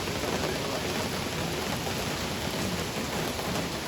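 Heavy monsoon rain pours down so thickly that the main road and buildings are hidden, making a loud, even, unbroken roar of broadband noise with no voices.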